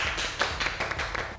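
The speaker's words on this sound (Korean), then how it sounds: "박수!" A small group clapping together in a studio, a brief burst of quick overlapping claps at moderate loudness lasting about a second and a half.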